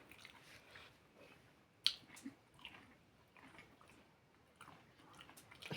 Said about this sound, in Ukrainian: Ти жуєш так довго.